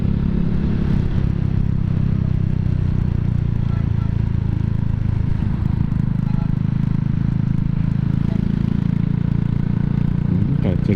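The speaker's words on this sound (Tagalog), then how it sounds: "smooth na smooth yung makina mga bay" A 150cc motorcycle engine fitted with an 8-hole injector idles steadily, giving a constant low droning hum with a light mechanical clatter that stays even and close throughout.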